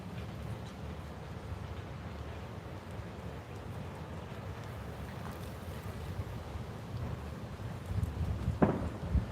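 Strong wind buffets a parked vehicle at a street crime scene, a steady loud roar with gusts that swell and rattle louder toward the end, no voices.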